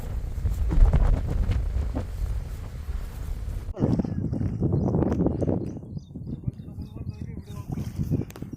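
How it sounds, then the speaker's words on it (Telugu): Strong wind by the Manjeera river roars and buffets the microphone in heavy, uneven gusts, with people talking beneath the blustery noise. "ఈ గాలి ఇదంతా చాలా ఎక్కువ ఉంది, అందుకే వీడియో తీయట్లేదు"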